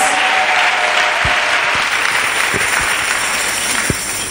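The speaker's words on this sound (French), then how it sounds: "Let's clap for Jesus." A church congregation claps for Jesus in sustained, dense applause that holds steady and loud from start to finish, with no talk over it.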